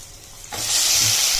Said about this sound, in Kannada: ಹೀರೆಕಾಯಿ ಹಾಕ್ತಾ ಇದ್ದೀನಿ ನಾನು